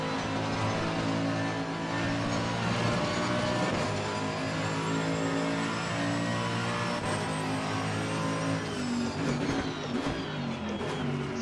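Mercedes-AMG GT3 race car engine in Assetto Corsa Competizione at Barcelona, a loud steady drone with layered harmonics and a rising pitch sweep near the end, close and continuous with no talk.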